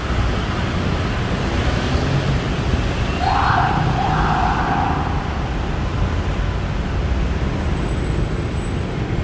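City street traffic in Bangkok at sunset, a dense continuous roar of passing cars and buses with a brief tonal whine partway through, steady and moderately loud.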